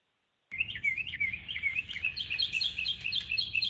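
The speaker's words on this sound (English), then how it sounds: "Those birds almost sounded like crickets" Birds chirp outdoors in the mountains around Hot Springs, Arkansas, a rapid, continuous high trilling that starts abruptly and carries on at moderate volume, almost insect-like, with no voices.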